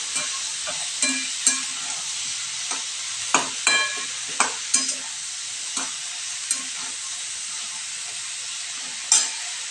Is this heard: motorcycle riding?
no